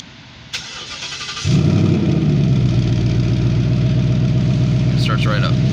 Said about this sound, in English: this car also features a remote start, and when the vehicle's locked, you press this button twice,